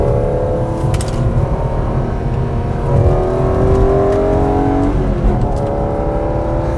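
High-mileage BMW E46 M3 accelerating hard at full throttle, its engine note climbing steadily and loudly through the revs close by, with a brief dip around a gear change before pulling again.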